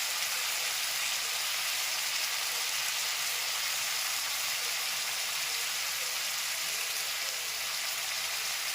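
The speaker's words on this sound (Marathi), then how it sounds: "आपण हे सगळं तेलावर परतवून घेणार आहोत। त्यामध्ये आपण टाकणार आहोत थोडंसं आलं, किसलेलं आलं" Grated ginger sautéing in hot oil with tomato for spicy Maharashtrian coconut rice, a steady, even sizzle and crackle that holds throughout with no pauses.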